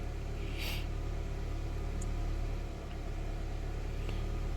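A Nissan engine with a P0011 timing fault, stalling and low power, idles as a steady low rumble with a constant drone, fairly faint and heard alone.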